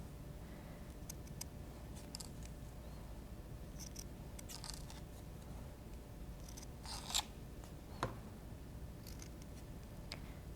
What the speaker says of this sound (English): you can always widen it a little bit with the scissors